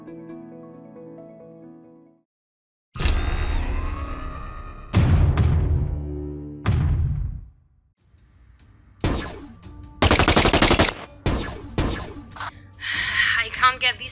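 Battletech mech weapons fire in a video game: booming blasts and sharp bursts of heavy gunfire, with ringing and whooshing tails, spread across the stretch and separated by quieter gaps.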